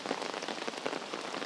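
Heavy rain pouring onto a street in Geylang, Singapore, a dense, even hiss of drops striking pavement and surfaces, close and constant without a break.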